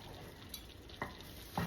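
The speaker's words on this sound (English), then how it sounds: "Let's give our noodles a stir." Noodles being stirred in a pot of simmering casserole, with soft scraping and a few distinct stirring knocks over a quiet bubbling background, no talk.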